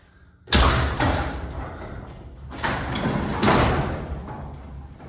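A garage door fitted with new springs is moved by hand, giving a sudden rolling rumble and rattle that surges again in a couple of waves, fairly close.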